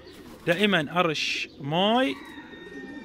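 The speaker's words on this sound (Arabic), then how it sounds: "اسمع صوت الطيور وانا قاعد اصور" Pigeons in a loft give a few short rounds of cooing, close and fairly loud, while someone talks over and between them.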